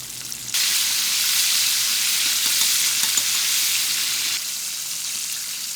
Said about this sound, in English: carefully place the wings in the hot oil while keeping the temperature between 340 to 360